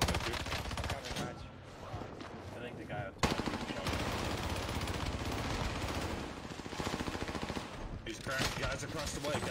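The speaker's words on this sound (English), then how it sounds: "They're shooting." Gunfire in a video game, dense bursts of rapid automatic shots crackling almost continuously, loud and close, with a voice talking faintly underneath.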